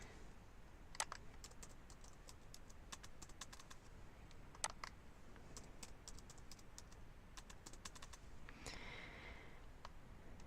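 Faint, quick bursts of typing on a computer keyboard, with scattered clicks and pauses over a quiet room hiss and an occasional sniff.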